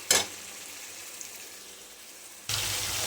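Onions and tomato paste frying in oil, a steady moderate sizzle that jumps louder after a brief burst at the start and again near the end, no voices.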